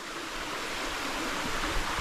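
A monsoon-season stream at Kohoj Fort rushes steadily in a continuous broadband hiss, close and fairly loud, with no voices.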